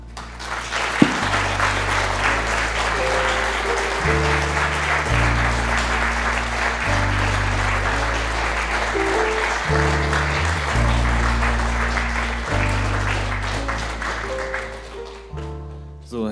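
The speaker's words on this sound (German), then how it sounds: "Herr Lemke, ich denke mal, Sie haben den Applaus hier gehört für Ihren Vortrag." An audience applauds after a lecture at a student climate summit held at a school. The clapping is steady and sustained for about sixteen seconds, with tonal sounds running beneath it.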